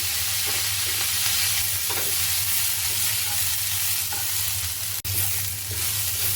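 Onion fries in a pan until reddish-pink for a spiced banana flower vegetable dish, making a loud, steady, close sizzle with a few faint stirring clicks and one brief dropout near the end.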